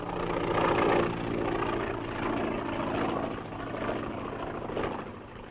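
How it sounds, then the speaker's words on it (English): An airplane flying in to land over a dry lake, heard as a continuous propeller engine drone that swells and wavers slightly, fairly loud with no talking. "That must be the plane."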